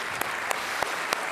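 Applause from a large conference audience at a mobile industry congress rolls on as a steady, moderately distant wash of clapping, punctuated by a few sharper claps.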